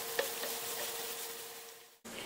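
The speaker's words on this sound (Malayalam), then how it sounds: "ഇനി ഇതിലേക്ക് 2 വലിയ ഉള്ളി കനം കുറഞ്ഞ് അരിഞ്ഞത് ഇതിലേക്ക് ഇട്ട് കൊടുക്കുക." Thinly sliced onions frying in ghee for chicken dum biryani, a steady soft sizzle with a faint crackle at the start, stopping briefly near the end before resuming.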